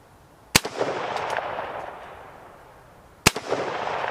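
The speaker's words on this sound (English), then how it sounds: "Okay, 2 shots downrange." Two sharp rifle shots fired downrange at an outdoor range while zeroing, spaced nearly three seconds apart, each a loud crack followed by a lingering rolling echo.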